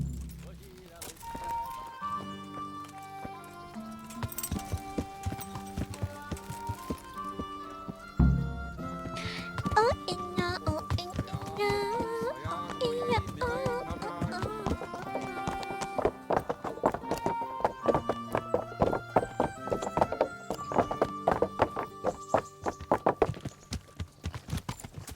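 Video-game horse hooves clip-clop at a steady trot beneath a melodic music score, growing busier and louder as the ride goes on.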